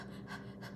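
Heavy breathing in a ghost-story recording, heard as close, rasping panting with quick in-and-out breaths in a steady rhythm, alone and fairly faint.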